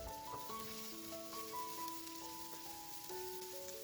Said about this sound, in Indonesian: lalu masukkan bawang putih dan bawang bombay. Ini kita tumis sebentar